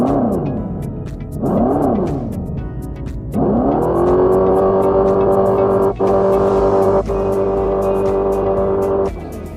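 A 2025 Dodge Charger Scat Pack electric car's synthetic exhaust sound, played through speakers and a tube, rises and falls with a few revs, then settles into a loud, steady droning hum, close and continuous.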